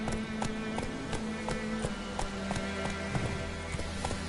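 Roach the horse gallops in a video game, giving a quick, even run of hoof clip-clops over a steady background hum, moderately close and fairly quiet, with no voices.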